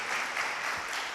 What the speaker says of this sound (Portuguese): Uma salva de palmas para o Felipe Loures.